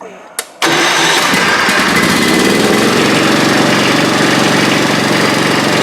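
An Ariens GT14 garden tractor's small engine cranks briefly, then catches and roars into a loud, steady running rumble close by.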